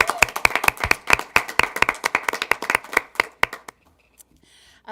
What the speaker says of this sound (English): So we'd like to welcome you with a round of applause to the board meeting tonight.